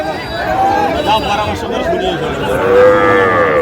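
Cattle, including Sahiwal bull calves, moo in long, drawn-out calls, loud and nearby, over people chattering in a crowd at a cattle market in Sylhet, Bangladesh.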